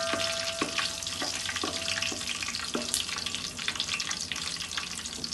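Cumin and coriander seeds sizzle and crackle steadily in hot oil for chicken biryani, a busy frying hiss with occasional sharper pops and light clinks of a utensil, no talking.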